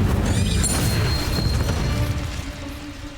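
Spell impacts from the video game Hogwarts Legacy land as a loud, dense rumble of booming, crackling magical blasts with a brief rising shimmer, fading slightly toward the end.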